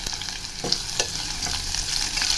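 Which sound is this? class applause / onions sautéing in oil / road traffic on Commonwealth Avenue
onions sautéing in oil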